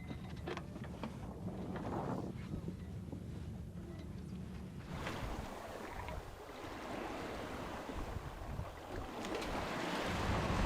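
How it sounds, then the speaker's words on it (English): Calm ocean water laps steadily around a sailing boat at sea, a continuous soft wash of waves with low wind rumble on the microphone, louder and more textured in the second half. "it's just nice to be out on the ocean when it's this calm."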